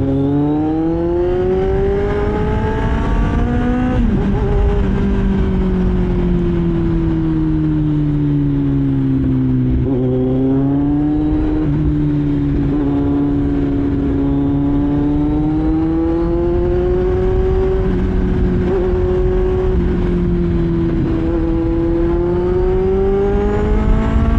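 A 2023 Kawasaki Z900 Special Edition motorcycle fitted with an SC-Project exhaust, heard close and loud while riding on a straight road, with a steady engine drone that rises and falls as the rider shifts and accelerates.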